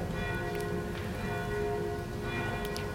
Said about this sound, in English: if you can hear the bells, it's very interesting because in the place we're filming, we're actually here in Venice right now